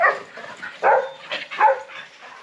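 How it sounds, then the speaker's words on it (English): Several dogs in Arecibo, Puerto Rico, bark and yip close by, chasing after a supposed iguana. They give a few overlapping sharp bursts, all within a couple of seconds. "There goes the dog pack."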